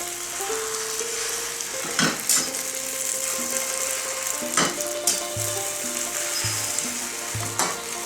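A Thai omelet with ground pork and chilis fries in very hot oil, giving a steady close sizzle broken by a few sharp clinks of a utensil against the pan.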